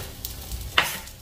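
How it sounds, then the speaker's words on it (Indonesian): Tempeh frying in hot oil for mendoan, a short crackling sizzle with a sharp clatter of stirring near the middle, close and fairly quiet. "Saya pingin goreng tempe."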